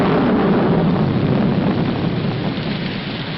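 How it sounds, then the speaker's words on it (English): Heavy rain falls in a continuous, loud hiss with a low rumbling undertone, steady and unbroken and slowly easing toward the end. "It's going to rain."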